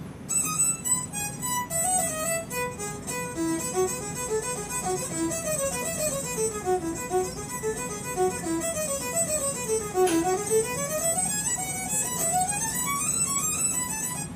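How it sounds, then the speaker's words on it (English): A surrogate violin with minimum-phase processing applied plays a flowing melodic phrase of rising and falling notes, continuous and alone, with a slightly synthetic timbre. "this is the sound of the surrogate violin after I've applied the minimum phase"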